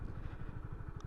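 Motorcycle engine idling in neutral, a steady low mid-pitched throb with even pulsing, close and constant throughout, with no talk.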